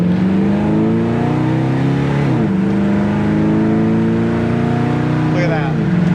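A 1968 Pontiac GTO's engine pulls steadily from inside the cabin, its pitch climbing through the gears with a brief shift, droning loudly and continuously.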